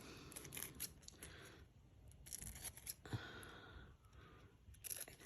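Scissors cut out a print on tissue paper, soft close snips and crisp paper rustles in irregular bursts, quiet and without talking.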